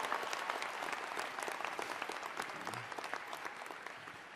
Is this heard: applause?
yes